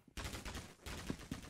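Fully automatic gunfire in the Roblox game Arsenal: one quick, steady burst of rapid shots, fairly quiet and continuous for about a second, with no talking.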